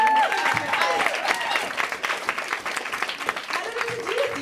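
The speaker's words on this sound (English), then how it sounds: "Can we have a round of applause for all of the brave people?" An audience at a poetry event claps for the poets, a steady wash of applause with voices and whoops audible over it, fairly loud throughout.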